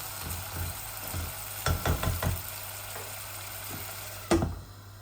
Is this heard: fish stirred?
yes